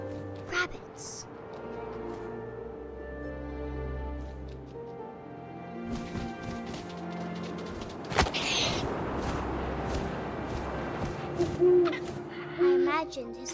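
An owl hoots in the video game What Remains of Edith Finch, set against wind, low booms and background game sounds, with a voice speaking at times.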